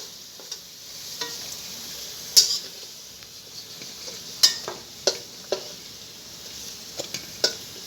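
Potatoes and okra fry quietly in a pan while a utensil stirs them, giving soft scrapes and sharp metallic taps at irregular intervals over a faint background sizzle.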